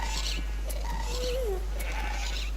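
Sheep in Minecraft bleat in short wavering calls, several in a row at moderate distance, while a voice talks faintly over a steady low hum.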